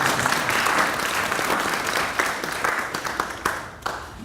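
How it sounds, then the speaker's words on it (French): Applause from an audience at a meeting of the Haitian president with New York consulate staff, a dense steady clatter of many hands that thins near the end. "Je vous prie de l'applaudir,"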